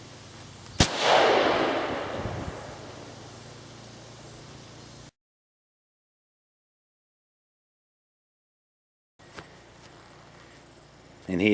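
A Tikka T3 rifle in 6.5 Creedmoor fitted with a Terminator T2B muzzle brake fires a single loud, sharp shot outdoors, followed by a long decaying blast, then silence and a second sharp report near the end.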